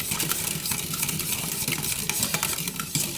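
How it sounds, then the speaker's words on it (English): Cornstarch being stirred into boiling gravy in a pan for pork tenderloin: continuous close bubbling and scraping with quick clinking spoon strokes, moderately quiet and without any voices. "So I'm just going to stir this up."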